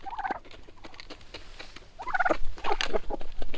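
Turkeys in a backyard tractor pen gobble while pecking at sunflower seeds, with several bursts of warbling gobbles, quieter at first and then louder and overlapping near the end.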